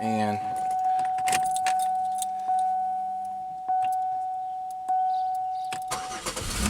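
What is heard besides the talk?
car engine starting with keys jangling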